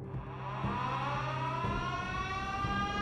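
A wartime London air raid siren wailing loud and sustained, its tone climbing steadily, alone without voices.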